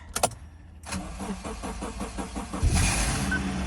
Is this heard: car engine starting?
yes